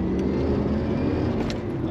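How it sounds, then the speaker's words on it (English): A 1992 Lotus Carlton driving on the road, its engine and road noise a steady loud low rumble from inside the cabin, with people talking over it. "It's driving like a normal car, which is the idea, right?"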